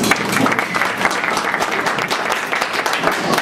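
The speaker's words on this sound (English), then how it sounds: "Everyone give her a round of applause" An audience claps steadily for a volunteer at a nightlife show, a loud, dense round of applause filling the whole stretch.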